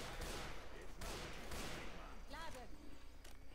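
Gunfire in the video game Left 4 Dead 2: a rapid, dense volley of shots in bursts that recur a few times, with a voice briefly cutting through near the end.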